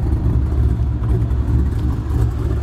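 2000 Chevrolet Corvette with a big cam running nearby, a loud, steady, low engine rumble with a choppy lope that holds throughout, without speech.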